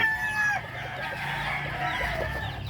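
A hen with her chicks on a Filipino backyard farm clucks softly at close range, while a rooster crows in a drawn-out call under faint surrounding farmyard noise.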